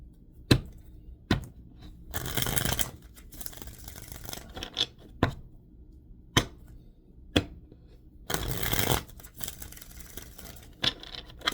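Tarot cards are shuffled and drawn close up, with sharp card snaps and slides and a few longer riffling bursts spread over several seconds, without talk.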